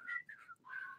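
An attempt at whistling comes out mostly as breathy air, with a few thin, wavering tones in two short bursts and a brief gap between them, quiet and close.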